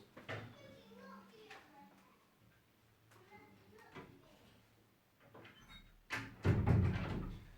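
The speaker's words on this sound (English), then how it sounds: "Shut these doors." Doors are shut indoors: after a stretch of quiet voices, a louder clattering thud of wooden doors closing lands near the end, close to the microphone.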